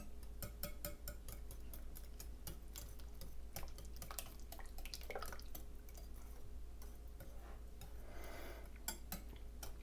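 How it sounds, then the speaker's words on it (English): Wet banana pancake ingredients with eggs are whisked in a bowl: quick, faint, continuous clicking and tapping of the whisk against the sides, with soft wet sloshing in a quiet kitchen. "then we are just going to whisk them together. Make sure you break the egg yolks."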